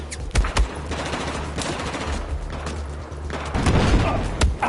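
Gunfire in the Battlefield 4 video game, with a tank nearby: several sharp shots and bursts of automatic fire over a constant rumbling background, getting heavier toward the end.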